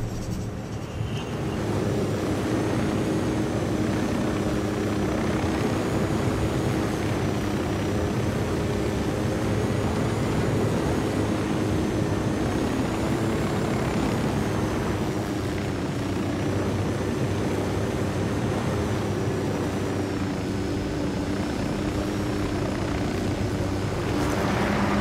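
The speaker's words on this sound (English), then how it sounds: "Drone is airborne." Steady droning engine hum of a surveillance drone flying overhead in the video game Ghost Recon Wildlands, a continuous loud buzzing whir that holds level throughout with no speech.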